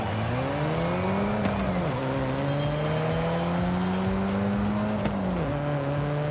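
A 1992 Ford Escort RS Cosworth racing in Forza Horizon 5, its engine droning loud and close with rising pitch through the gears, brief dips at shifts and tire squeal underneath.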